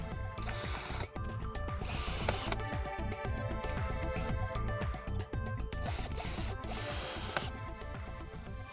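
Formwork pieces for a garden wall mould are being screwed together, with repeated ratcheting, whirring bursts of a screw driver and clattering handling noises close by, no talking.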